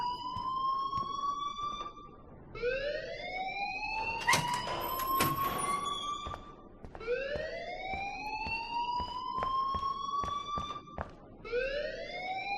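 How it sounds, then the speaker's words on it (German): A fire alarm in the video game Life is Strange wails in a repeating rising sweep, each cycle gliding upward over a couple of seconds, loud and continuous with scattered clicks and bumps underneath. "please turn off that alarm since that's your job"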